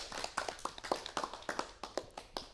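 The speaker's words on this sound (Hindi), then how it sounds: "तालियां बजाइए प्रिशा दीदी के लिए" A small group claps in applause for Prisha didi on a children's programme, a quiet, sparse patter of individual hand claps with a loose, uneven rhythm.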